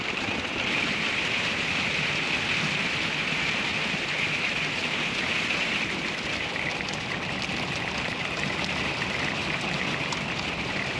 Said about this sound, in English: Well, we just got a little hailstorm.